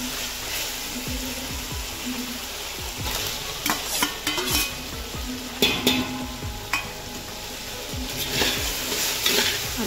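Tomatoes stirred and fried in a pan for masale bhat, with a steady close sizzle under repeated scraping and stirring strokes and occasional clinks of the spoon against the pan.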